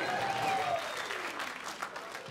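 Stand-up comedy audience bursts into applause, a loud wave of clapping and crowd noise that fades over about two seconds in a live club or theater setting.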